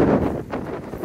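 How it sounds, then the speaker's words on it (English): Outdoor wind buffets the microphone near an abandoned house in Wales, a brief loud low rumble with gusty, uneven surges. "Oops, mind the wind."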